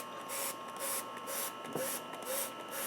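A spray bottle mists the surface of dry potting soil around an olive tree: faint repeated hissing spritzes in a quiet room, a steady rhythm of short bursts roughly every half second.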